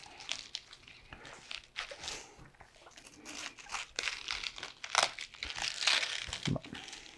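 A knife cuts the core out of a cabbage, giving close, crisp crunching and crackling snaps in irregular bursts, with the loudest crunches near the end.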